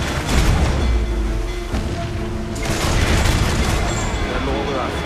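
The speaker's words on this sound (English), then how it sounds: "Those cannons have a long range." Ship and fort cannons boom in Assassin's Creed IV Black Flag during a naval battle. Heavy blasts land near the start and again midway, overlapping battle noise, with voices talking over them.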